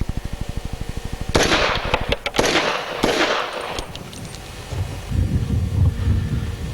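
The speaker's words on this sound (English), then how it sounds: "There's the boss shooting the match grade Whisper." SSK Whisper match grade machine gun fired outdoors: a rapid, evenly spaced burst of muffled shots, followed by several louder sharp cracks with wind buffeting the microphone.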